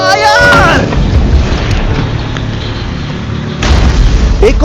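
A large outdoor explosion set off on command sounds as a loud, sustained roaring rumble. Heavy wind buffets the microphone, and a brief call comes at the start before the blast noise fills the rest.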